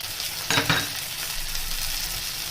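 Spices fried and stirred in a pan for a Bengali jackfruit and prawn curry, with turmeric, coriander, cumin and chilli, giving a steady soft sizzle and a short louder burst of scraping stirring near the start.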